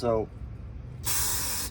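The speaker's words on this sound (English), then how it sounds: "just a little brake clean and just clean them up" Brake cleaner sprayed onto a new brake rotor, one loud close hissing burst lasting under a second, following a brief spoken word.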